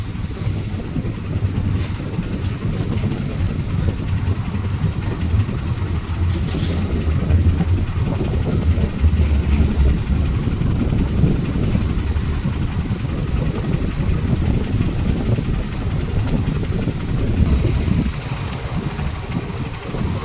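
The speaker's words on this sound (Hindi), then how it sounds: "ये ऐसे रास्तों में मुझे बाइक चलानी पड़ रही है" A motorcycle rides along a rough mountain village road, its engine a continuous loud rumble close to the microphone, mixed with wind buffeting and no talking.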